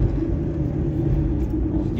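A car driving along a road gives a steady, continuous low engine and tyre rumble, close and even throughout, as though heard from inside the cabin.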